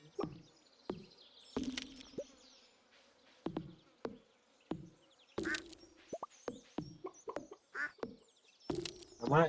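Game chickens in Stardew Valley cluck and chirp in short, separate bursts, with small clicking and plopping effects between them, close and fairly quiet, with no talking over them.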